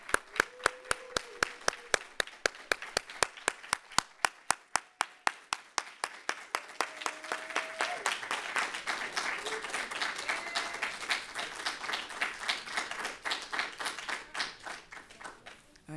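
An audience at an event in Washington, DC claps in a loud, steady rhythmic beat that swells into dense applause as someone walks to the stage, with voices and cheers mixed in.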